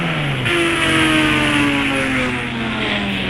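A motorbike engine in the Indian Bike Driving 3D video game revs loud and close, its whining tone climbing and holding steady over a few seconds.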